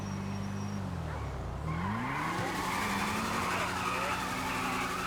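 Grand Theft Auto V car engine giving a throttle blip, the engine note dipping and then sweeping up in pitch, with tire skid noise and some game sound around it.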